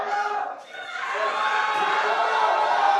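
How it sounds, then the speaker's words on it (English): Crowd cheering and shouting during a deadlift attempt at a USAPL powerlifting meet, a loud, dense roar of voices that dips briefly then swells and holds steady. "Crowd behind him."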